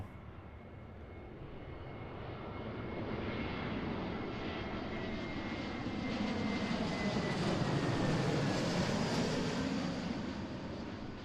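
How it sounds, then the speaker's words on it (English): Airbus A321neo jet landing at Seattle airport, a steady broadband engine roar that swells over the first few seconds and holds loud and close throughout, with no talk. "this is a brand new 321neo"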